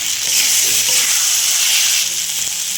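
Ginger, green chilli, Kashmiri red chilli and tomato masala fry in a pan with a loud, steady hiss and crackle, close up and continuous, with faint stirring underneath.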